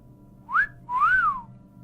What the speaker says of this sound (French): J'ai entendu un sifflement, semblable à celui qu'un homme émet lorsqu'il appelle quelqu'un dans la rue.